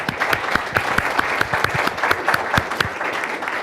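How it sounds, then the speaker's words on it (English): A short burst of audience applause at a business talk, many hands clapping close and lively for a few seconds before fading. "if we could give a round of applause to Charlie for his time."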